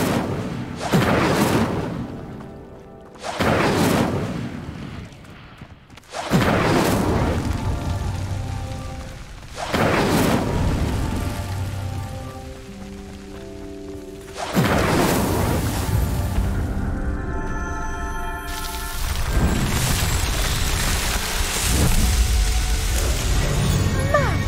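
Three pyres lit one after another with the Incendio fire spell in Hogwarts Legacy, each a loud whooshing burst of flame followed by crackling burning, repeating at intervals with a final bigger flare.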